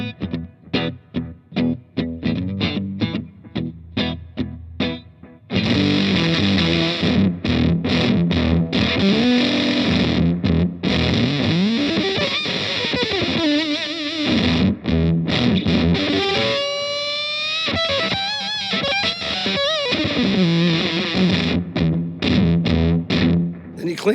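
Electric guitar played through an MXR Octavio fuzz pedal, first bypassed with clean, clipped notes and chords, then engaged for a loud, thick, buzzing octave-fuzz tone with sustained notes and bends, close and without talk.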